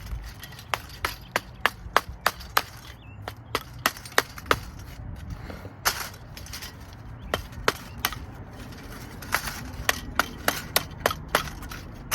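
Repeated sharp hammer blows strike at an uneven, quick pace, hammering copper out of transformers, ringing out close by over a faint rumbling background.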